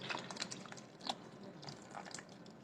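Half and half being poured into clam chowder in a crockpot, a soft, steady liquid trickle with small splashy drips, close and fairly quiet.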